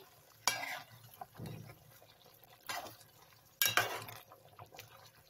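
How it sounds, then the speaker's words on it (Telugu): A spoon scrapes and clinks through a pan of stuffed eggplant masala curry, Andhra style, in a few separate loud strokes with quiet gaps between them and a faint background hum. "ఇలా వంకాయలన్నిటినీ వేసుకున్న తర్వాత మొత్తం ఒకసారి అంతా కలిపేసుకోవాలి"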